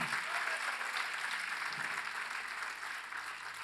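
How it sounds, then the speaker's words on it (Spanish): Church congregation applauding during a Holy Week service, a dense, even wash of clapping that holds steady and fades slightly, heard faintly at a distance. "Dele un aplauso al Señor"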